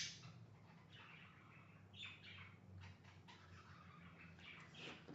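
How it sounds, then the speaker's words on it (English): Pet birds chirping indoors in an art studio, faint scattered tweets and short calls over a low background hum, with no talk. "you probably hear my birds in the background when I'm in here talking or just being in the studio"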